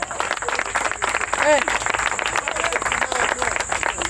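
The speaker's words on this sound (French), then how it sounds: "Je vous demande d'applaudir très fort." Applause from an audience at a political support meeting, scattered clapping that rises and falls beneath a voice talking over it and some crowd noise.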